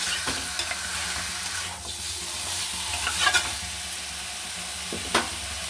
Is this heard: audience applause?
no